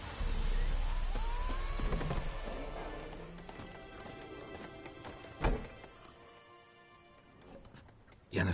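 Roach the horse trotting in The Witcher 3, a run of hoofbeats over rain-like ambience, with a louder thud near the end and the scene fading quieter before a final knock.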